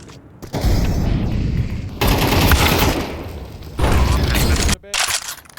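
Bursts of rapid gunfire in Counter-Strike 2, loud sustained volleys broken by brief gaps, with a sharp click near the end.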